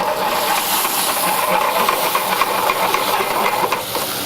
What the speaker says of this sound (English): We're gonna put a little vinegar in here. Right, deglaze the pan.